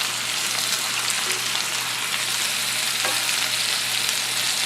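A lean beef burger fries in a pan, giving off a dense, steady sizzle and crackle heard up close. It continues evenly throughout with a faint low hum underneath and no talking.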